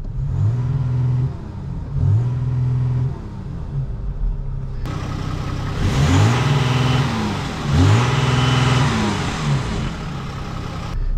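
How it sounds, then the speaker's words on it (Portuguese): Deep engine rumble from a Volkswagen Amarok V6 pickup idling on its original exhaust, then revving in several loud bursts that swell and fade, close to the exhaust. "esse daqui é o ronco original do carro"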